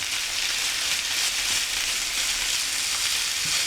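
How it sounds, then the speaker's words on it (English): Bacon fries with fried potatoes in a pan, filling the space with a loud, dense, even sizzle and fine crackle that holds steady from start to finish. "we're just going to cook the bacon through, turning it occasionally for about 4 or 5 minutes"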